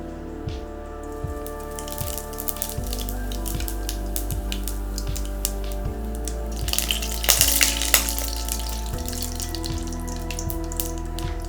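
Whole cumin seeds tempered in hot oil crackle and spit in sharp, scattered pops, with a busier burst of sputtering near the end, over a steady low mechanical hum; no one speaks.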